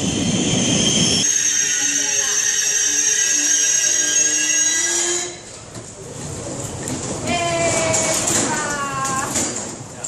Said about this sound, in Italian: Andiamo a vedere se arriva il treno.